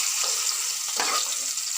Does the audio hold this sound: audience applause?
no